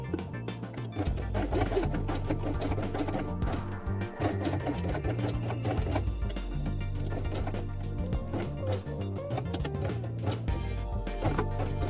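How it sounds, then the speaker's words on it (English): A sewing machine stitches felt dollhouse pieces for a quiet book, with a steady mechanical hum and rapid needle chatter running continuously and fairly loud. "And sew from here to this place."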